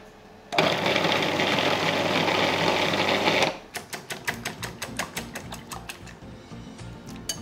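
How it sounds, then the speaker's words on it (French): Cauliflower puréed in a blender, a dense whirring roar lasting about three seconds, then stopping and giving way to a series of rhythmic mechanical clicks and ticks. "j'ai une belle partie du chou-fleur qui est là, que je vais mixer"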